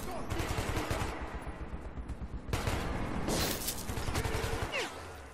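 Sustained automatic gunfire rattles through a Metro 2033 Redux fight, rapid close shots in dense bursts with brief breaks and whooshing effects, while a voice speaks briefly underneath.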